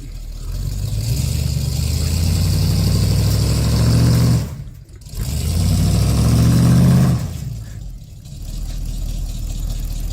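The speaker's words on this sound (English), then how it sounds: "Spinning the wheels. Try not to snap the chain, but give it a little jolt." Car engine revving hard in two long bursts with a short drop between, wheels spinning as the vehicle strains on a chain to pull a tree stump out on a farm; loud and close, no talking.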